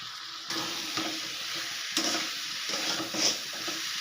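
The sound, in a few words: boiled potatoes and fried soybeans stirred into frying spice paste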